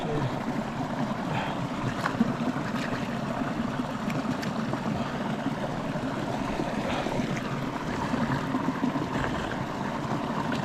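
Mountain stream or waterfall pouring steadily on a trek route near Yulla Kanda, a constant broadband rushing wash of water held at even loudness throughout, close by, with no talking.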